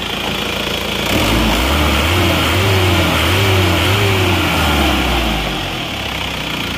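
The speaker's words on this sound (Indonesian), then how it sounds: "suara mesin" A worn car engine with slight blow-by runs close by, rising into a few repeated revs that swell and fall before settling back toward idle.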